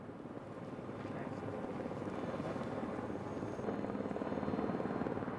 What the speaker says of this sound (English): the helicopter returns with a stretcher suspended underneath